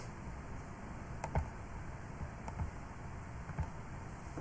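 A few keys are pressed on a computer keyboard, giving a handful of sparse, light clicks spaced about a second apart over a steady electronic hiss, with no talking.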